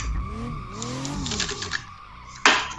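Tyres skid and a car spins out on a dirt run-off at the end of the main straight at YZ West Circuit in Assetto Corsa, a steady engine tone sweeping up and down, then a sharp loud burst of scrabbling noise near the end.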